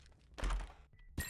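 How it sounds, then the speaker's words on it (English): A deep, booming thump from a video game bomb explosion, short and heavy, followed by fainter knocks and a crackle at the end. "we'll use our bomb to blow this up"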